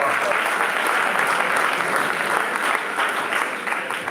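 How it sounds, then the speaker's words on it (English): An audience at a school interhouse quiz competition applauding a correct answer, dense continuous clapping from a crowd in a hall, loud and sustained for several seconds and easing slightly at the end. "Big round of applause."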